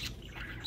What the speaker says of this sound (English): Hello, Mr. Bluebird on my shoulder.